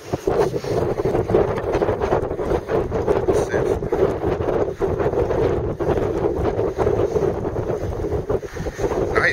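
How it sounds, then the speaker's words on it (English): Wind buffets the microphone during a kayak trip on open water near Sarasota, a steady loud roar with rumbling gusts that goes on throughout. "It's a little windy."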